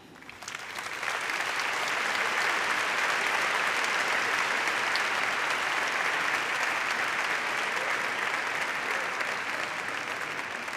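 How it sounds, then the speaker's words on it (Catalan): A large graduation audience at a university academic ceremony breaks into sustained applause, swelling after the first second into a broad, even wash of clapping that holds steady at a distance. "un gran aplaudiment"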